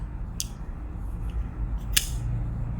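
Kizer Beyond folding knife blade dropping shut past its detent gives two crisp metallic clicks, a lighter one then a sharper, louder one about a second and a half later, close up over a low steady background hum.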